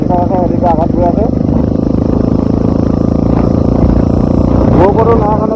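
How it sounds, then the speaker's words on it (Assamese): A Bajaj Dominar motorcycle on the road, its steady engine drone running continuously close to the rider, with a voice talking over it throughout. "এতিয়া টপিকৰ বাইকখন মই চলাই গৈ আছোঁ"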